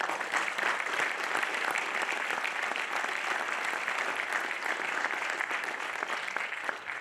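A graduation audience for the XCL World Academy Class of 2024 applauds the homeroom teachers with dense, continuous clapping. It holds an even, full volume from start to finish and trails off only slightly at the end.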